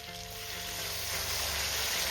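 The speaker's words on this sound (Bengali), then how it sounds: "এবার আমি এর মধ্যে দিয়ে দেবো সিদ্ধ করে রাখা মাসকলাই ডালটা" Boiled urad dal going into a pan of radish masala, giving a steady soft sizzle that builds slightly, close and with no talk over it.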